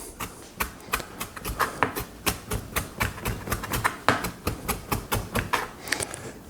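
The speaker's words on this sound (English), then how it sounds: "quite simply with your knife, mince it" A knife minces food on a cutting board for an egg roll filling, a quick run of sharp, close chopping taps in a steady, slightly uneven rhythm.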